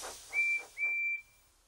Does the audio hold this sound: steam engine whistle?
yes